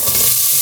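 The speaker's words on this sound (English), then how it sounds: "And then put the onion in." Chopped onion dropped into about a tablespoon of hot oil for a carrot and sweet potato soup, giving a short, loud, steady sizzle with a brief stir at the start.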